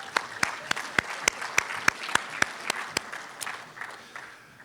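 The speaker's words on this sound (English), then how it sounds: "One more round of applause for these leaders." A panel audience claps at a conference, a thin patter of distinct sharp claps that grows fuller and then fades over about five seconds.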